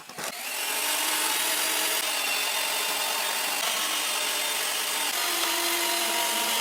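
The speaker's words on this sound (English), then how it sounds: "And I insert the screws." Power driver sinking screws into a wooden sawhorse, a continuous loud, close whirring hiss that holds steady for several seconds after a brief start.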